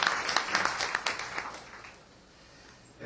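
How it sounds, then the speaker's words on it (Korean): Audience applause welcoming a guest at an academic conference, a dense patter of clapping that thins and fades out over about two seconds, followed by near quiet. "우리 한번 다 같이 박수로 환영해 주시기"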